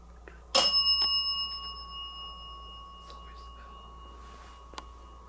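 A single bell rings once inside an old house of horrors theater, a bright, sharp strike with a long ringing tone that slowly fades over several seconds amid quiet room hum, with faint whispering nearby.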